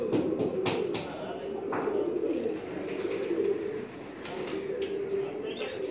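Pigeons at a Lahore pigeon-keeping dera cooing in a low steady murmur, with a few sharp bursts of flapping wings, moderately quiet and heard without talk.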